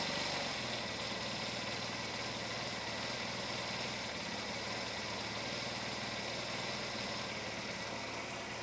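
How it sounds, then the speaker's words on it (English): A Honda Elite 80cc scooter engine idles steadily and a little high, a continuous close buzzing hum that holds even throughout with no speech. "Seems to be running pretty good. Idle's a little high."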